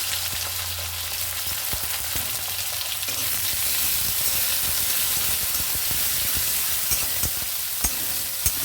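Onions sizzle in a pan with green chili and black cumin, a steady dense crackling hiss of frying, close and continuous, punctuated by faint stirring clicks, with no talking.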